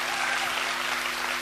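Audience applause at a kavi sammelan poetry event in Pantnagar, a brief dense wash of clapping with a steady hum beneath.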